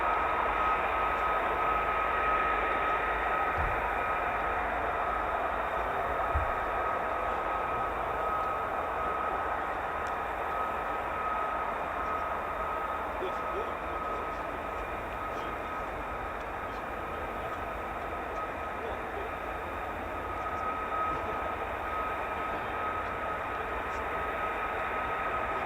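F-35A Lightning fighter jets taxi at an airbase, producing a steady distant engine roar with a constant high whine running across the whole stretch, fairly faint and unbroken, with no talking.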